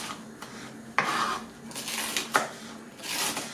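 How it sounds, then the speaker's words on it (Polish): A knife slicing through crisp young cabbage leaves on a board, a few sharp crunchy cuts followed by softer scraping and rustling, close by. "kroi się nożem, także nie trzeba żadnej maszyny do takiej kapustki"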